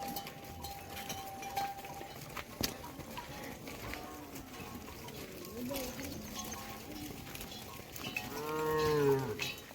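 Quiet outdoor village farm ambience in Karnataka near a hill, with faint murmuring voices, then a cow gives a long, fairly close moo near the end.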